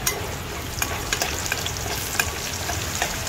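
Onions frying with garlic in a pan for a dried noodle dish, a steady close sizzle with occasional crackles and stirring scrapes, no voices.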